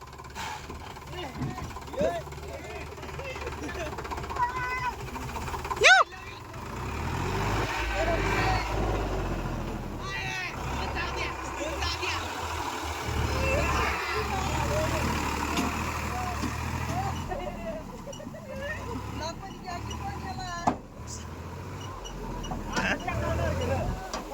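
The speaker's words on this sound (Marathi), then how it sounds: "निघला ट्रॅक्टर एकदाचा" A heavy tractor engine rumbles and revs as it pulls free after being stuck, with people talking and calling out over the engine noise nearby.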